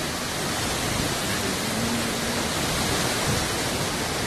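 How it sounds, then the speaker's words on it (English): Hurricane Irma winds drive sand along a Turks and Caicos shore in a steady, loud, unbroken roar, dense and hissing like heavy rain, with faint low gusts surging beneath. "Blowing sand, pretty bad."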